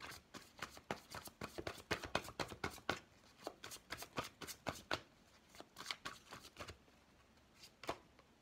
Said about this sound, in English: Let's get you guys a fairy tarot card here as well.